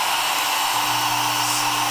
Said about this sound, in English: let's turn this hair dryer on